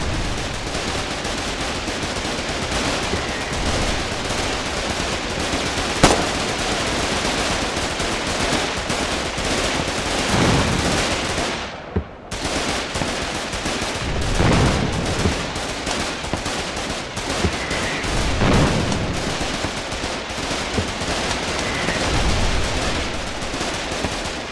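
Sustained heavy machine gun fire in the war video game Foxhole, dense continuous bursts with a brief pause midway before the firing resumes, loud and without speech.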